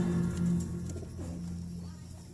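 Young pigeon squabs give soft, low cooing calls up close, a few short repeated coos early on that fade out.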